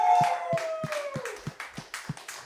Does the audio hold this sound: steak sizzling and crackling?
no